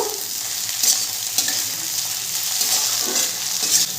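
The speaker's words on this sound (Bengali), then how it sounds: "সবজিগুলো ভালো করে ভাজা হয়ে গেছে" Chopped vegetables and a large diced tomato fry and get stirred in a pan for a Bengali navaratna dal, a steady close sizzle with scraping stir strokes throughout, no talking.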